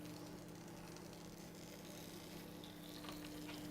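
Beef and bacon sliders frying in a hot pan give a steady, close, even sizzle with fine crackle and a few brief spits toward the end, and no voices are heard.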